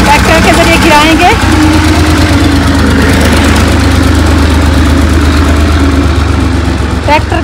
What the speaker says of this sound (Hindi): दीवार गिरा रहे हैं, ट्रैक्टर के जरिए गिराएंगे।